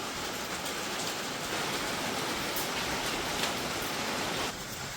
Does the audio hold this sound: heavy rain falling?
yes